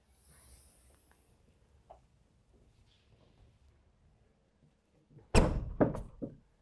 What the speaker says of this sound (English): And then the lever back to lock. You can hear it latch.